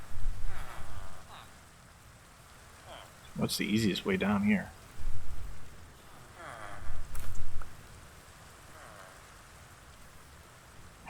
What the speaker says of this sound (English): Kind of rainy weather you guys have here